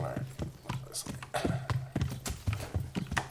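Horse hooves clip-clop at a steady riding gait in the medieval game Kingdom Come: Deliverance, rhythmic and fairly close, with someone talking over the hoofbeats throughout.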